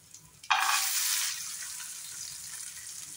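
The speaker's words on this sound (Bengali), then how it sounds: "এখানে দিয়ে দিব কাজু আর কিশমিশটা।" Cashews and raisins hit hot oil in a pan with a sudden loud sizzle that settles into a steady, gradually softening frying hiss, close and alone.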